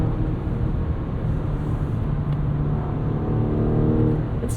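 A Mazda CX-90 plug-in hybrid's 4-cylinder engine sound is piped into the cabin, a steady low drone and hum that swells slightly as the SUV accelerates on the road.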